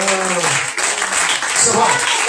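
A church congregation applauds and calls out in acclaim, a dense, loud wash of clapping and raised voices, with one voice standing out briefly near the start.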